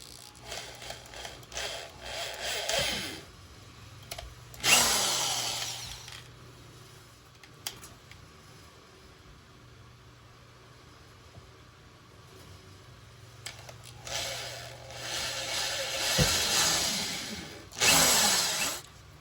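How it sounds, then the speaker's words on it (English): Power drill boring pilot holes for a front license plate bracket, several short bursts of high whining spin separated by quiet pauses, close and fairly loud, no talking. "let's go ahead and drill these holes and get this bad boy screwed into place"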